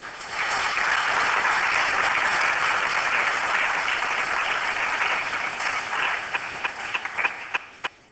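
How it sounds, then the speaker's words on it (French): Audience applause at a French junior representatives' assembly, steady dense clapping from a seated crowd filling the room, then thinning into a few scattered individual claps before fading out. "je vous demande d'applaudir"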